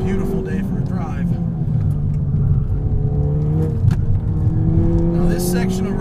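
A Ford Fiesta ST running a 100-octane pro tune cruises along a road, its engine a loud, steady droning rumble from inside the car with a brief swell near the middle, while someone talks over it.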